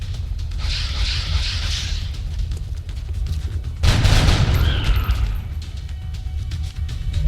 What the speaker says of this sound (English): Nice shot.